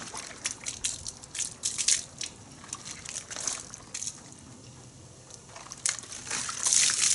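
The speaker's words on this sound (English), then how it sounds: "rinse it out in the bucket of clean water, scraping this along the grit guard" A wash mitt is rinsed in a bucket of clean water and scraped along a plastic grit guard during a two-bucket car wash. Close, continuous sloshing and splashing mix with gritty scraping crunches, with no talking.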